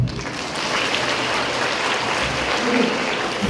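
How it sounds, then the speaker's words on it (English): An audience at a talk on menstrual health claps steadily, a dense, even patter of applause that holds at the same loudness throughout. "Clap for yourself."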